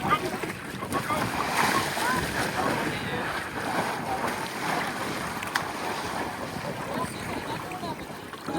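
Arctic Ocean waves washing at the shore, a steady broad rush mixed with heavy wind buffeting the microphone, continuous and fairly loud.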